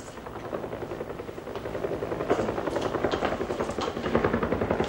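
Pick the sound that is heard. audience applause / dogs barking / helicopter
helicopter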